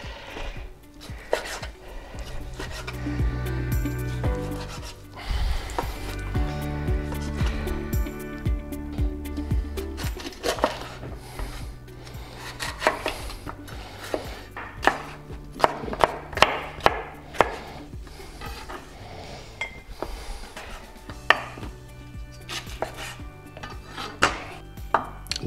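A knife chops food on a cutting board for a Spanish whiskey chicken with chorizo, in quick, sharp, rhythmic strokes with short pauses. The chopping is close and clear with no talking.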